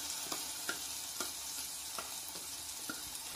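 Tomato-tamarind paste sizzles steadily in a frying pan for a South Indian kuzhambu, a constant hiss broken by light scrapes and taps of a stirring spoon, close and without talk.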